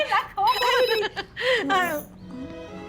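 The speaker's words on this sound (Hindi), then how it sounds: "फिर से फोन" A phone rings with a bright, melodic ringtone in repeated bursts, fairly close and loud.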